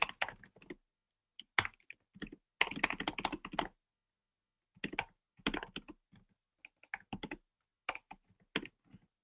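Bursts of quick keystrokes on a computer keyboard as code is written, coming in short irregular runs separated by pauses, close and fairly quiet with no voices.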